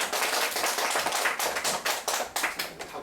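Audience applause at a student invention presentation event, a dense, steady wash of many hands clapping close by for about three seconds, with no talking.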